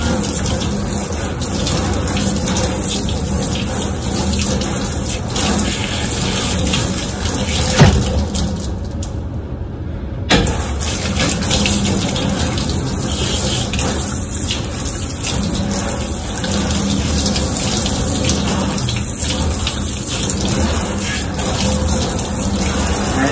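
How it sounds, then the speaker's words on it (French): Tap water running hard over hands rinsing at a hospital sink before surgery, a loud, steady gushing splash sustained for over twenty seconds with only brief dips, close by and with no one talking. "Maintenant, on va rincer les mains."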